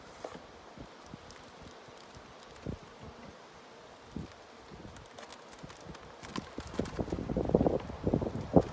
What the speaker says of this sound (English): there's a lot of bees in here, Cam.